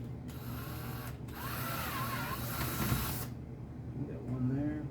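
A power drill bores through ice, whirring steadily for a few seconds, briefly stopping and restarting, then winding down into scraping and a little shuffling.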